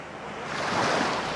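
Rain and surf on a Black Sea beach at Anapa on the Caucasus coast: a broad wash of breaking waves swells louder midway, with no talking.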